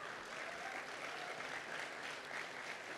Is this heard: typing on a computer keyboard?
no